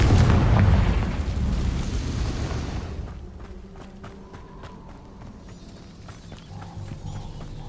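The Confringo explosive spell in Hogwarts Legacy bursts loudly at the start with a heavy boom that decays over about three seconds, followed by quieter scattered pops and clatter.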